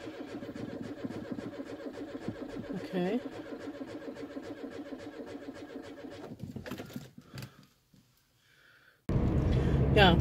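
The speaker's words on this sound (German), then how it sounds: "Ja, das Auto ist angesprungen." A car engine turns over and catches, running as a steady mid-pitched idle for several seconds with a voice talking over it, before it cuts out and louder rumbling noise follows.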